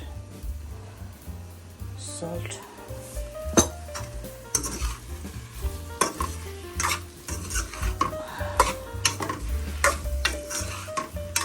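Potatoes for aloo dum stirred and fried in oil in a pan, with steady sizzling under repeated scraping and clinking of a utensil against the pan, close and moderately loud throughout.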